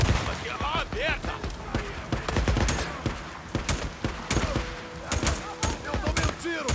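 Gunfire in the video game Days Gone, a rapid run of sharp shots and bursts with scattered impacts, loud and close, with a voice briefly heard among the shots.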